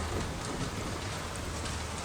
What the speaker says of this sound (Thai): แถมตอนเนี้ยฝนก็ตกด้วยนะ